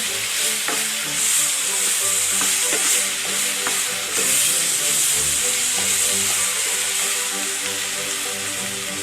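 Cooked beef being sautéed in a pan, Kerala style: a steady, loud sizzle and hiss over about nine seconds, broken by repeated scraping and clinking of a spatula stirring the meat, with no voices.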